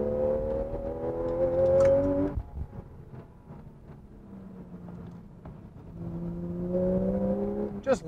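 Porsche 911 GTS engine revving hard on a winding road, climbing through gears in two loud rising sweeps with a brief lift and lower drone between them.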